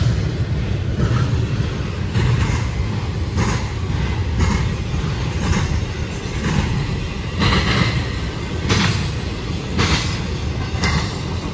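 Norfolk Southern freight train NS 28B, led by a Dash 9 locomotive, rolls past at speed at Depot Street in Berea, Ohio, with a loud, continuous roar and rhythmic wheel clicks over rail joints, close and unbroken.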